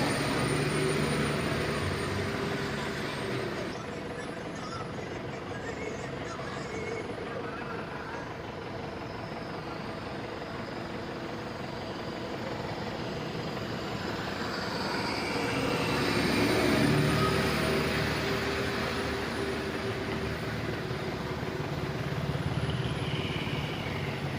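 Lorries stuck in a traffic jam on a winding mountain road between Sabarimala and Sengottai give a loud, continuous engine rumble and drone that swells and fades slightly, with heavy road noise throughout.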